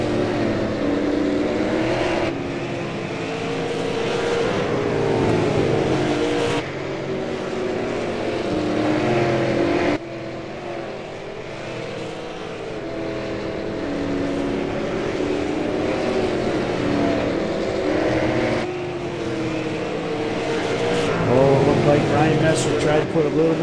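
Stock cars race around a track late in the event, with engines roaring and droning continuously at a moderate distance, rising and falling as the cars pass, under a commentator's voice.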